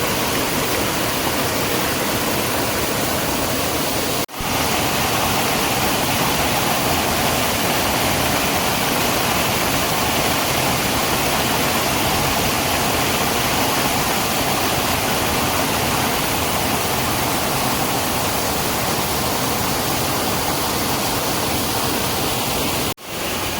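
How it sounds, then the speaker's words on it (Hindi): Muddy floodwater carries stones down a hillside in Uttarakhand during heavy rain. It makes a loud, steady roar that fills the whole stretch, broken only by two brief dips, with no voices. "इस तरह से पानी बहता हुआ आ रहा है"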